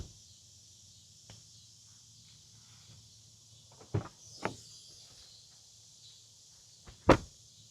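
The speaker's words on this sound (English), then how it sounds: "listen to these doors shut" Doors of a 2026 Nissan Frontier Pro-4X pickup shutting, heard as two close, solid thumps about half a second apart and a third, louder slam a few seconds later, over a low steady hum.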